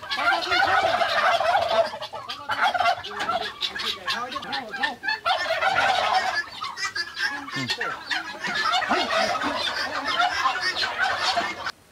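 Large turkeys on a farm gobble loudly and repeatedly in overlapping bursts, close by, with clucking and a faint voice in the background.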